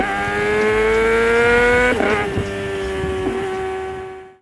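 A Honda car accelerates hard in second gear, the engine whine climbing in pitch, loud and close, before the revs fall away and the sound fades to silence.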